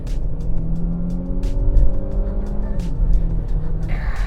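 Renault Sport GT engine revving hard while driving in sports mode, a loud sustained engine note climbing in pitch, then dropping after a gear change and building again, with road and wind noise underneath.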